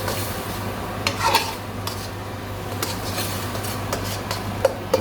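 Prawn curry sauce with red capsicum simmering in a pan while a spoon stirs it, giving soft scraping and clinks over a steady low bubbling hum, with occasional sharper taps against the pan.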